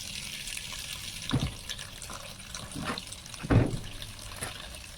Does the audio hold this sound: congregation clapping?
no